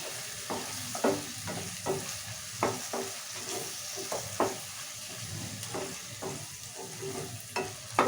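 Chopped tomatoes and chilli sizzle in a frying pan while a spoon stirs them in repeated scraping strokes, the frying hiss steady and close throughout with no talking.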